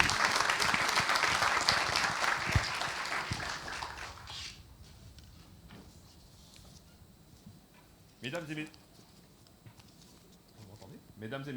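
An audience at a digital innovation conference applauds loudly for about four seconds to open a session and honor a departmental councillor, then the clapping fades to quiet room tone with a few brief noises.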